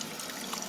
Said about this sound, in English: So I have my water running.